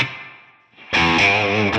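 A distorted electric guitar played through a Tonex room reverb, where one chord decays into near silence and a second loud chord then rings out and sustains.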